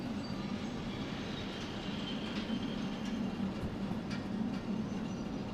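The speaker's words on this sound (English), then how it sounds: "Loose coupled shunting." Loose-coupled train wagons shunting in Derail Valley, a steady rolling rumble of railcars with faint wheel clatter and occasional metallic squeal, continuous and moderately loud.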